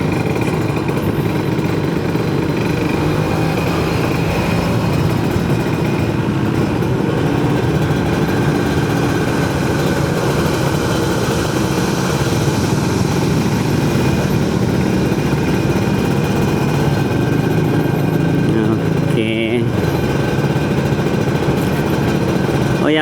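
A Kawasaki Ninja RR motorcycle engine with a Keihin PWL 26 carburetor and aftermarket exhaust runs loud and close throughout, a deep rumbling exhaust with steady revving that holds for the whole stretch.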